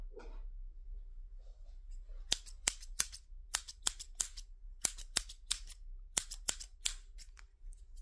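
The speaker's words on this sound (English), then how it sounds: "I'm gonna get my scissors." Scissors snip repeatedly at close range, about twenty crisp metallic cuts in irregular bursts over a low steady hum, with no talking.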